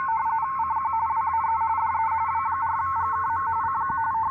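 An RTTY radio teletype data signal, a steady shrill warble rapidly switching between two tones, running continuously and loud with no talk over it.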